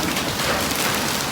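Steady, heavy rain during a trip to Raigad, a dense, loud hiss of drops drumming on surfaces that runs unbroken through the short moment with no other sounds.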